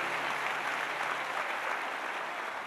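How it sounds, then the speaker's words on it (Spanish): A church congregation applauds at a morning service, a steady even wash of many hands clapping, soft and somewhat distant, continuous for the whole stretch. "Alguien puede darle un aplauso al Señor en esta mañana."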